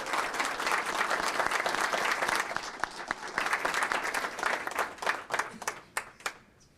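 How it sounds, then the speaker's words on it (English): An audience at a city council meeting applauds a high school senior, with dense, sustained clapping that thins gradually into separate claps and fades out near the end. "And if we could give her a big round of applause."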